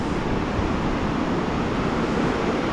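Rushing water of a large stream, a steady, loud broadband roar with no pauses, heard up close and alone.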